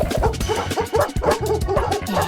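Wolves in a LEGO Sonic video game bark and yip repeatedly in a rapid, close, loud run of short barks with an occasional whimper, no voices over them.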